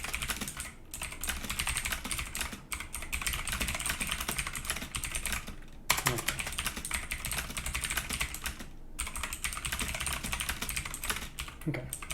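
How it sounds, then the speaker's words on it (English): Continuous close-up typing on a PICTEK mechanical keyboard fitted with blue Jixian switches, crisp clicky keystrokes in long unbroken streams with only a few brief gaps, loud and alone. "It has a very like pingy metallic sound to it."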